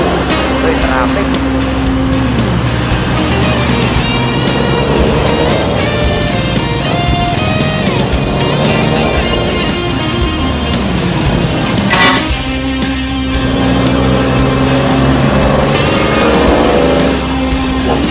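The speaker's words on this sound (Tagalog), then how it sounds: "Traffic." Road traffic near Manila Bay rumbles steadily, with car engines passing close by, a horn toot and constant vehicle noise, while people talk over it.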